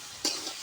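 Chopped raw mango being stirred in a hot wok, one quick close scrape and a short sizzle burst against a steady background hiss.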